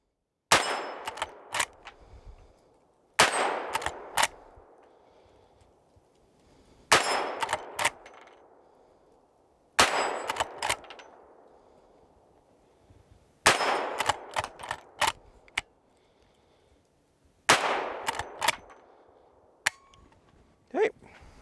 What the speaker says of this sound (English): we've got some 357 Magnum loaded up, and let's shoot some steel with it, see if it makes any louder ring